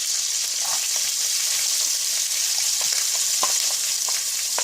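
Chopped onions sautéing in a pan for egg podimas, a loud, close, unbroken hiss of frying with faint occasional ticks of stirring, without talk.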